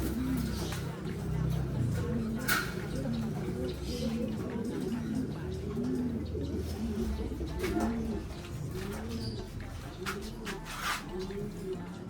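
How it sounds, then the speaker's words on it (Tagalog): Racing pigeons coo repeatedly inside a cage, their soft rolling calls rising and falling in a steady rhythm close by, with faint clicks and shuffles in the background. "Ayun na mga kalapatids, magkatabi na sila sa cage."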